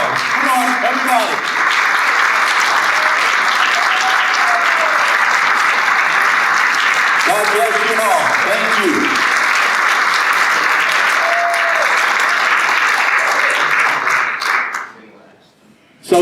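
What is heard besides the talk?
audience applause at Rotary meeting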